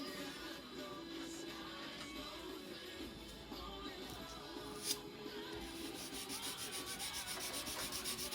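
A sharpening stone is worked along the bevels of a custom dagger clamped in a vise, giving a steady, fairly quiet abrasive rubbing that runs unbroken throughout, with one brief sharper scrape midway.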